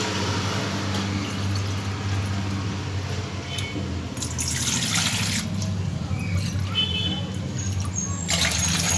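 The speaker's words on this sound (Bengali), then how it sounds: "এই বাটি মেপে আমি জলটা নিচ্ছি" Water pours into a measuring bowl to cook with Gobindobhog rice for a Bengali muri ghonto: a steady, close rush of running water that continues for the whole stretch, with no voices.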